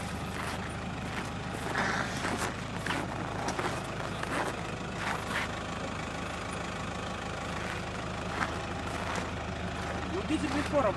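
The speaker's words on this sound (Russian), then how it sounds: "Ну, дизель легко работает." A Toyota Land Cruiser Prado 150 diesel engine idles steadily with a low, even rumble throughout, and voices talk intermittently over it.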